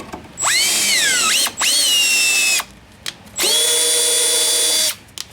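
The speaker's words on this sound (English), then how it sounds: "I have a drill with the tap in it" A power drill fitted with a tap whines in two long bursts with a short pause between, pitch dipping under load, then a brief click and a third steady run, cleaning up parts on a 1959 VW single cab pickup.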